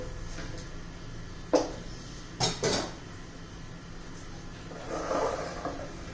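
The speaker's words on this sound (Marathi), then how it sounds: "आता तवा गरम करण्यासाठी ठेवूया" A few sharp metallic clanks and scrapes ring out as a heavy iron griddle is set on a stove, with a quieter shuffle near the end.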